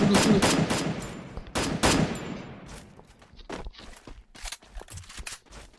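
Gunfire in the battle royale mobile game Free Fire: rapid bursts of sharp shots cluster at the start, then sparser scattered cracks and softer impacts follow, with intermittent footstep-like thuds.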